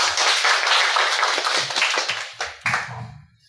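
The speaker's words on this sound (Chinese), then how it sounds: "那我们再次用热烈的掌声谢谢讲者" A lecture audience applauds the speaker at the end of a talk on Monga gang bosses and local beliefs, with close, moderate clapping that thins into scattered separate claps and stops after a few seconds.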